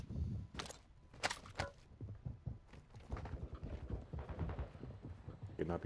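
Footsteps thud and clatter in the Rebirth Ashika video game, an irregular run of close steps mixed with game noise and voices talking over them.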